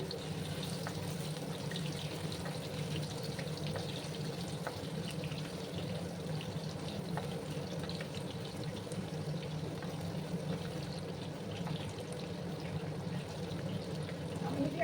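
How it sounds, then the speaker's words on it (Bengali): Potato pieces fry in a pan over medium heat, a constant soft sizzle and bubbling hiss running steadily with faint clicks and a voice talking at times. "আলুগুলোকে একটু লাল লাল করে ভেজে নিচ্ছি।"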